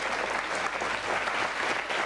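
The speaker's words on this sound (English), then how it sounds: "let's have a big round of applause, please, for David Spillards of Caldy Grange Grammar on the Wirral" Studio audience at a 1987 TV quiz show breaks into sustained applause, a dense, even wash of clapping from many hands held throughout with no voices over it.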